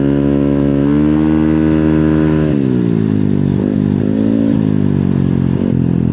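A motorcycle engine revs hard, just short of full throttle, with a loud, steady buzzing tone that climbs, drops, and wavers close by for several seconds.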